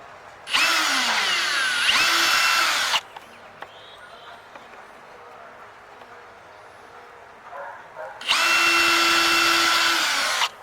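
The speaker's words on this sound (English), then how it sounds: "I'm going to go ahead and start this one and drill the other holes." A power drill boring holes for a Yak Attack gear track on an Ascend 12T kayak: two loud whining bursts of several seconds each, separated by a quiet stretch with small handling clicks, the motor pitch dropping as each burst starts and ends.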